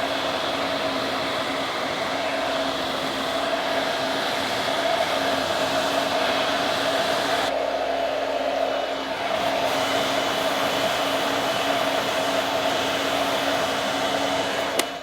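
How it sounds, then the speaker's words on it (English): A blow dryer roars steadily at close range while hair is dried and smoothed with a large-barrel round brush; the airflow tone dips briefly midway, then resumes, with no talk. "while I was blow drying my hair"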